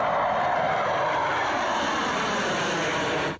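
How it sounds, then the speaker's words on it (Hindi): A Sukhoi fighter jet streaks low over an expressway, its steady broadband engine roar loud and close for the whole stretch before cutting off abruptly at the end. "सबसे पहले एक सुखोई फाइटर जेट तेजी से उड़ते हुए आया और एक्सप्रेसवे को चूम कर निकल गया"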